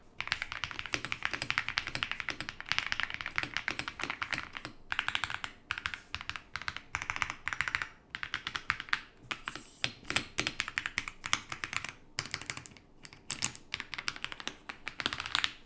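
Continuous typing on a keyboard fitted with dye-sublimated themed keycaps, a quiet, close stream of rapid clicky taps with brief gaps, alone without talk.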